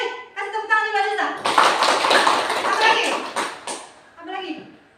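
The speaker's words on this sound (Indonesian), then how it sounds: "Kasih tepuk tangan juga Lisa." Children clapping hands in an Islamic lesson, a burst of clapping for a few seconds sandwiched between someone talking before and after.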